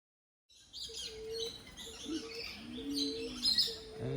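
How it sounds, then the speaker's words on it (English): Birds in an aviary, including a spangled drongo, give clear whistled calls and chirps at moderate distance, a mix of short tones and brighter trills after a brief silence at the start. "We're in the bird aviary looking for, what is it called? A spangled drongo."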